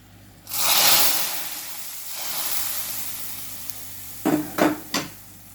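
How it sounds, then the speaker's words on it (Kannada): Tempering (oggarane) with gram and curry leaves poured into basale greens saaru in a clay pot gives a loud, sudden sizzle that gradually fades, followed near the end by three quick metallic clinks of a utensil. "ಈಗ ಒಗ್ಗರಣೆಯನ್ನು ಸೇರಿಸ್ಕೊಳ್ಲಿಕ್ಕಿದ್ದೇನೆ."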